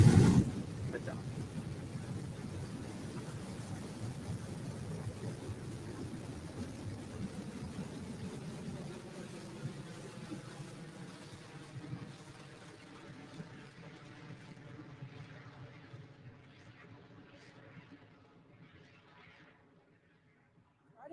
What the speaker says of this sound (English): that BE3 engine rumble really coming through as the vehicle approaches